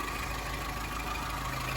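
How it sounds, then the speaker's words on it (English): A Suzuki X90's small, low-powered engine idles with a steady, even hum and a constant low throb, running alone at close range with no change in pace. "it's not a very powerful little engine, but it's got enough power to get the car moving"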